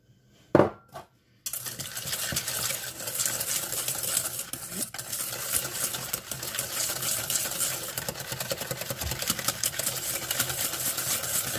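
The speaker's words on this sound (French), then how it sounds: "on mélange les jaunes d'œufs avec le sucre" Egg yolks and sugar are mixed in a bowl, giving a steady, continuous whisking and scraping rustle that begins after a couple of soft knocks and runs without pause to the end.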